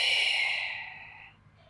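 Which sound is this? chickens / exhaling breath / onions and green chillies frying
exhaling breath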